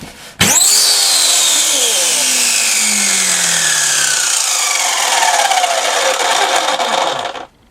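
A McCulloch chainsaw with a faulty clutch mechanism starts abruptly and runs for about seven seconds. It makes a loud, rough whine whose pitch slowly slides downward, then cuts off sharply.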